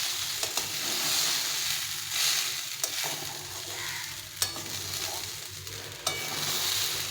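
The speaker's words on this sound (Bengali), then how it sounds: "চাল আর ডালটাকে সুন্দরভাবে একটু ভেজে নিতে হবে কিছুক্ষণ ধরে" Rice and lentils for khichuri fry in a pan while being stirred, a steady close sizzle with occasional sharp scrapes and clicks of the spoon against the pot throughout.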